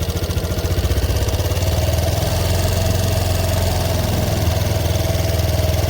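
A 2016 Piaggio Medley 125 scooter idles at raised revs, a steady, loud mid-pitched engine drone with an even pulsing beat throughout, close to the microphone and alone.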